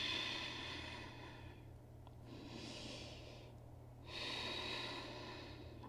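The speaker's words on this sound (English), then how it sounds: "Take another deep breath in and an exhale out." During a slow-flow yoga session, a person draws a deep breath in and then exhales, two soft airy rushes, quiet and close against a faint low background hum.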